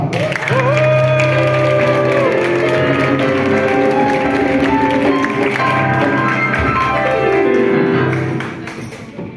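Audience applause and cheering for a musician at a live event, loud and sustained across the whole stretch with music-like tones mixed in, fading near the end.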